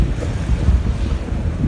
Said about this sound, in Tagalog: Kaya ganito yung hangin na lang natin, no? Kalakas.